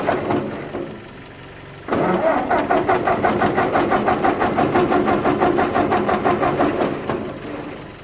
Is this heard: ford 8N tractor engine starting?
yes